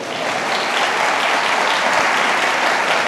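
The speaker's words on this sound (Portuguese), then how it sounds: "Palmas para eles, gente." Steady, dense applause from an audience at a talk, filling the whole stretch at an even, loud level with no voices breaking through.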